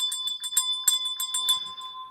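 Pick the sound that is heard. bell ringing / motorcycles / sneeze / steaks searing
bell ringing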